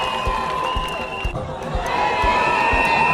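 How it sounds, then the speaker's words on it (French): Crowd at an outdoor presidential tour event cheers and applauds a young dancer, a steady noisy roar of voices and clapping with rhythmic thumps like a drumbeat and some shouting throughout. "Merci de l'applaudir encore très très fort s'il vous plaît."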